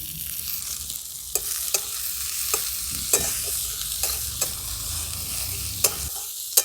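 Chopped capsicum and beans sizzle steadily in a hot pan for vegetable momo filling, while a spatula strikes and scrapes the pan in a loose rhythm of sharp ticks, close and clear with no talking.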